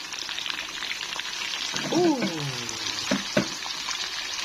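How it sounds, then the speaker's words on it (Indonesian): Food, half-cooked and coated with turmeric, fries in a pan with a steady close sizzle and crackle throughout, a few brief clinks and stirring scrapes rising above it. "Aku goreng setengah matang."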